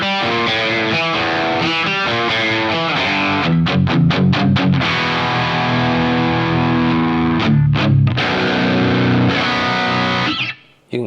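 A Harley Benton JA budget baritone guitar chugs a heavy, distorted metal riff with sharp palm-muted stabs, played loud and steady with no talking.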